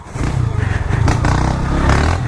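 A small-displacement motorcycle engine labors loudly and steadily on a dirt trail through dense brush, its throbbing drone rising slightly as the rider pushes it in a high gear, with scraping and clatter from the rough ground.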